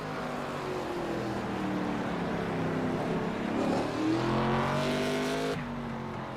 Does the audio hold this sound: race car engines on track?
yes